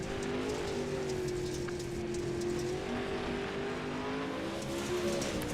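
A race car at Fairbury Speedway in the Eastern Shore Racing League drones steadily at a distance as it heads out onto the track, a sustained engine tone with slight pitch drift and no voices.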